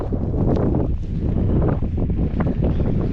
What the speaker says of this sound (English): it's a little windy today again